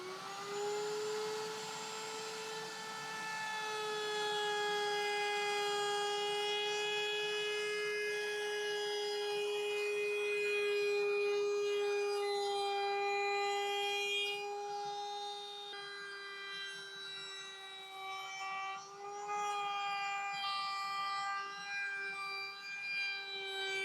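A SpeTool router with no dust shroud rounds over a wooden edge, giving a loud, sustained high-pitched whine that holds steady up close, then wavers and dips as the cut progresses.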